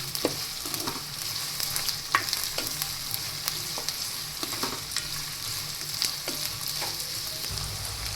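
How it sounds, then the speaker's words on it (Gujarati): Onions fry in oil toward golden brown for matar paneer, with a steady soft sizzle and scattered light stirring taps and scrapes, close and moderately quiet, with no voices. "તે થોડી ગોલ્ડન બ્રાઉન થાય ત્યાં સુધી આપણે તેને તેલમાં સતળાવા દેશું."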